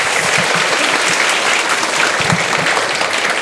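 A crowd claps steadily, a dense wash of applause sustained throughout.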